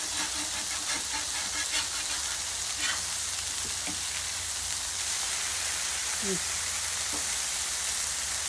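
A smashburger patty with onions sizzles and crackles steadily on a flat-top griddle, a dense continuous hiss with a few scraping and tapping sounds from a spatula near the end.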